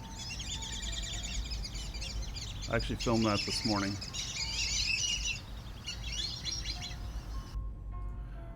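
Birds chirp and tweet steadily at a lake in the morning, with bright overlapping calls continuing throughout, and a person briefly speaks partway through.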